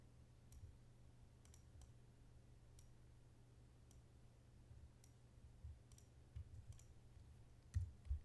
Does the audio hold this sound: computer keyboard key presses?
yes